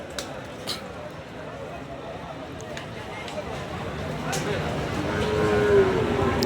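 Cattle moo at a busy border-area cattle market where bulls are sold, one drawn-out low call rising near the end over steady crowd babble and nearby voices.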